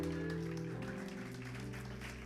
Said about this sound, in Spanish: Alguien que aplauda la gloria del Señor.